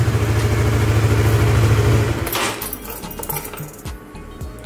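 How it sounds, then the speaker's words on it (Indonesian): A Honda Sonic motorcycle engine idles on Suzuki oil with a loud, even, pulsing putter for about two seconds. The sound then drops to a quieter, looser clatter with small knocks. "oli Suzuki ini cenderung suara mesinnya lebih agak sedikit halus ya teman-teman"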